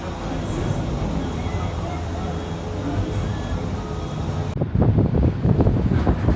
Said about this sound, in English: First time on the Skyliner! It's so breezy, I love it.